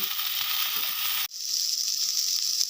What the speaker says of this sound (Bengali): আরও একটু ভালো করে ফ্রাই হতে দেব